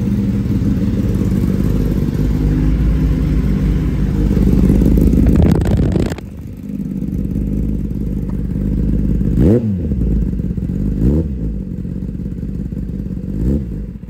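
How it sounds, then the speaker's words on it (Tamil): A Kawasaki ZX-10R sport motorcycle starts and runs loud and close for the whole stretch, a steady engine rumble broken by a sharp drop partway through and several quick revs near the end, with no talk. "10R ஸ்டார்ட் பண்ணா ஏதோ சவுண்டு கேட்குறீங்களா?"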